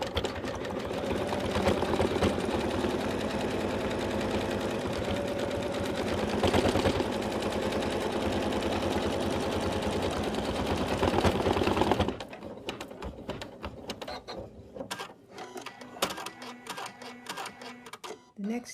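Embroidery machine stitching a mustache outline on a Santa bib, a fast continuous mechanical chatter close up for about twelve seconds, then stopping and giving way to quieter clicks and handling noises.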